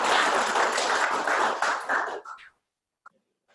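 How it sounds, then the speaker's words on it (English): Audience at a construction safety workshop applauding, dense clapping for about two seconds that quickly thins out and stops, followed by near silence. "So give him a round of applause."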